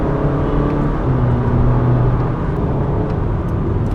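A Honda City car engine drones loudly and steadily from inside the cabin while driving in sport mode, with a low rumbling hum and a slight rising whine, no talking over it.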